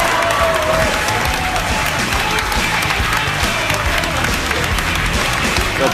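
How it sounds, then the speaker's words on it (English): Standing ovation at a church service for Donald Trump at Christmas, a dense, continuous wash of clapping and crowd noise from a large gathering, steady and loud with no break. "Donald Trump gets a standing ovation at church this Christmas."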